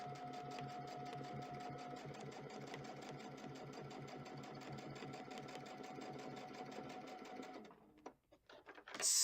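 A sewing machine stitches quilt fabric along a log cabin ruler in a steady, loud, rapid mechanical rhythm that runs for most of the stretch, then slows and stops near the end.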